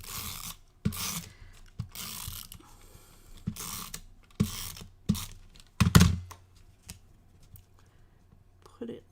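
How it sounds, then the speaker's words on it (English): A tape runner applying adhesive tape to a paper pop-up tea cup flower vase craft makes repeated short ratcheting, rasping bursts, about eight of them over several seconds, close to the mic with some quiet talk. "let's just get our tape runner"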